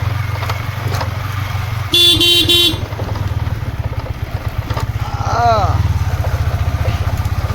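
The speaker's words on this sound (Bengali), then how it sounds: "এখন বাইকে উঠে গেছি প্রশান্তদার বাইকে উঠে গেছি আর এখন যাচ্ছি মুরগি কিনতে" A motorcycle rides along a village road in Bengal, its engine thrumming steadily throughout while a bright horn toots in a short burst partway through and a voice briefly rises over the ride.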